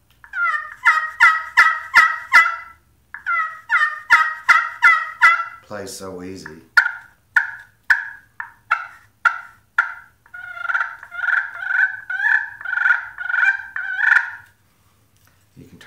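A walnut slate-over-slate pot turkey call played with a chinkapin striker gives several runs of sharp, rhythmic yelps, with a brief low purring stretch midway and a few clear pauses between sequences.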